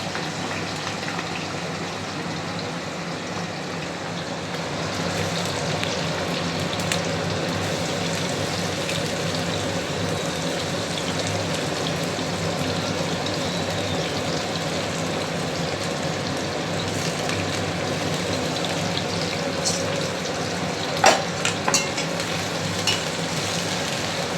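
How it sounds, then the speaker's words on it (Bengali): Close, steady sizzle of capsicum, beans and carrots frying in ghee and refined oil, continuous hiss with a few light clinks of a utensil near the end. "গাওয়া ঘি আর রিফাইন তেলে পুরো ভেজে নেবো জিনিসগুলো।"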